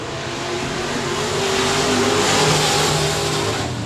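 IMCA modified race cars roaring around the dirt 67 Speedway of Texarkana, a sustained engine drone that swells and peaks midway as the cars pass, fairly loud and continuous with no talking.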